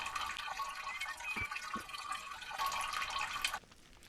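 Water running from a sink in the survival game No One Survived, a steady trickling flow with a couple of soft drips, fairly quiet, stopping abruptly near the end.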